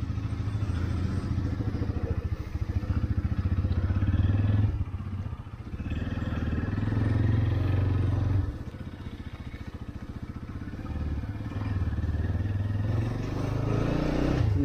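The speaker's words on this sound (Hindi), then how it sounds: "दिनै बाइकनि साउन्डखौ बेलेग खालामना लाबोगोन आं" A motorcycle engine runs close by with a rough, steady mid-range drone that rises and dips as the throttle changes, with a couple of brief lulls between stretches of revving.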